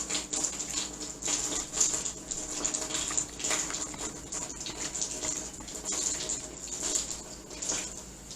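Hot water runs from a kitchen tap for soaking spring roll wrappers, a continuous splashing patter that surges and eases slightly, close by and with no talking.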